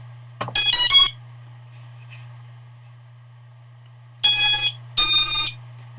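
The flight controller beeper on an Eachine Tyro99 quadcopter kit gives three short, loud, high-pitched buzzing beeps with a pause between the first and the last two, over a faint steady hum.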